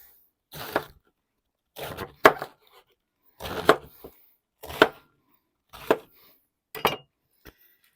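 A knife chops through a halved head of cabbage on a board, seven sharp, separate thuds in an uneven rhythm with quiet pauses between, close and clear with no talk.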